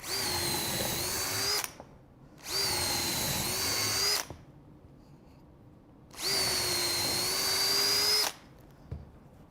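A power drill boring holes runs in three long, steady whirring bursts of about two seconds each, separated by quiet gaps and a few faint knocks, close and loud with no talking.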